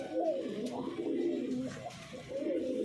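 Green-necked pigeons kept by a pigeon fancier in Uttar Pradesh coo softly and continuously, close by, in low rolling murmurs with no speech over them.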